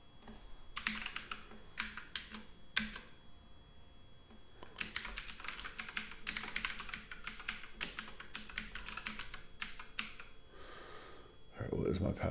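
Bursts of typing on a computer keyboard while signing in to an email account, quick clicking keystrokes in several runs separated by pauses, fairly faint, with a brief voice near the end.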